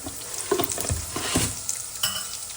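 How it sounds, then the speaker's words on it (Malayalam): Urad dal and popping mustard seeds frying in hot oil for ragi vermicelli upma, a constant crackling sizzle with scattered pops and soft spoon scrapes, close up and without speech. "1 ടീസ്പൂൺ ഉഴുന്നിട്ട് കൊടുത്തിട്ടുണ്ട്."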